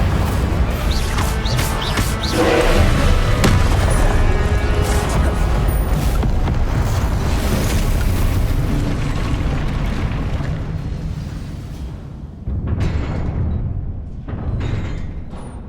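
A fire spell cast during combat in Hogwarts Legacy, a loud, sustained roaring burst of flames and crashing impacts that swells and then fades, followed by a few further thuds and blasts.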